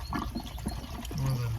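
Water runs from a tap into a bucket being filled to flush a tankless water heater, a steady close splashing and gurgling that swells slightly toward the end.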